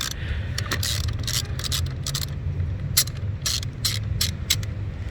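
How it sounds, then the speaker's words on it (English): A ratchet wrench loosens the positive battery terminal on a 2017 Mazda 6, rapid clicking bursts in short irregular runs, close and fairly quiet over a low background hum. "open up this flap and loosen up the positive side"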